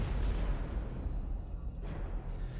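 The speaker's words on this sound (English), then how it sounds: "Suddenly, a boom as loud as cannon fire shook the area." A deep, cannon-like bomb boom from 428: Shibuya Scramble rolls out low and heavy, then fades into a muffled rumble with a faint secondary burst partway through.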